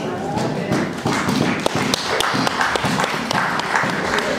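A church congregation claps in a quick, steady rhythm with thumping beats, and voices are raised and cheering loudly across the room throughout.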